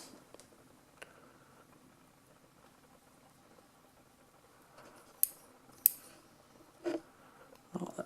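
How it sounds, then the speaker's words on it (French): Scissors snip excess braided and fluorocarbon fishing line in a few quiet, close, sharp cuts near the end, after a mostly hushed stretch. "De préférence avec un bon ciseau."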